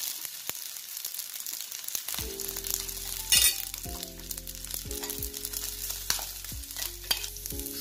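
Poppy seeds and coconut sauté in a pan for white kurma, with a soft continuous sizzle and occasional stirring clinks under gentle tonal music.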